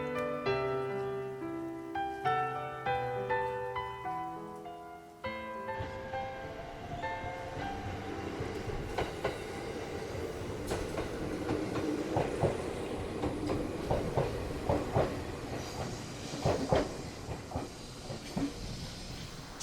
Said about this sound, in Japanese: 列車は西名山湖を通過します